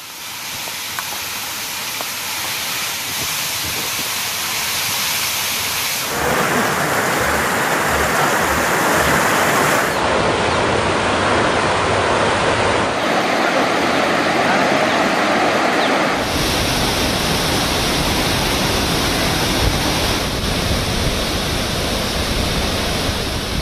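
Bhavani River in flood after heavy rain: a loud, continuous roar of rushing water, dense and broadband throughout, shifting in tone between shots with no voices over it.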